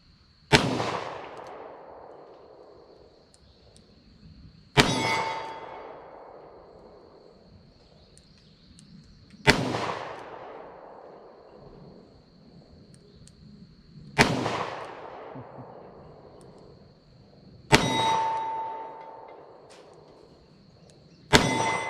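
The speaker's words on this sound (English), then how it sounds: "I'm gonna try to shoot it from a double action this time to see if I can get on the 10-yard target here" A Rock Island .38 Special revolver fired double action at a 10-yard target outdoors: five sharp, loud shots spaced about four to five seconds apart, each trailing off in a long echo.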